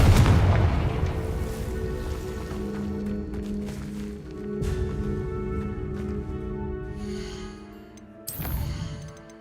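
Explosion from the Confringo blasting spell in Hogwarts Legacy: a heavy boom opens, followed by rumbling blasts over sustained game music, with another sharp burst near the end.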